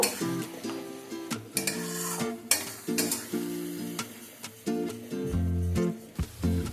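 A tomato, cashew and green chilli paste sautéing with whole spices for a vegetarian aloo dum, with loud scraping stirs of a spoon against the pan over a frying sizzle, close and rhythmic.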